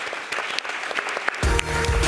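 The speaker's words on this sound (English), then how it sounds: "let's give a round of applause." A live audience applauds after a Web3 community-building talk on a conference stage: scattered claps build into a loud, dense wave of applause near the end.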